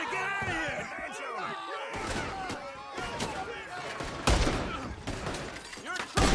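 Gunfire rings out in Red Dead Redemption 2, a busy, chaotic mix of shots, thuds and shouting game voices, with heavy blasts toward the end.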